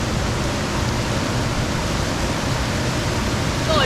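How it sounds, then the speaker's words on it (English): A waterfall at the top of a falls near Mackay on a Gold Coast to Cape York trip roars as a steady, loud, broadband rush of falling water that fills the scene without a break. "Now this is the waterfall that's at the top."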